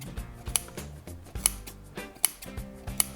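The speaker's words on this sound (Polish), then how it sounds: "bierzemy nożyczki" Scissors snip through upholstery piping trim while a chair is reupholstered: four sharp, crisp cuts spaced evenly about a second apart, close and clear over steady background music.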